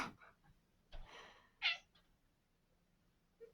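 A few short, quiet meows spaced apart, with a faint higher-pitched cry near the end, heard alone in a quiet room.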